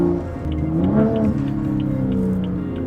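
A BMW N55 engine revs up and settles into a steady, throaty drone, loud and close, with no talking.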